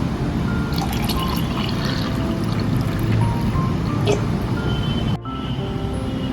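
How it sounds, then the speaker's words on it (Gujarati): Water pours and trickles steadily into a sherbet mixture for several seconds, briefly cuts off, then flows again. "પાણી એડ કરીશું।"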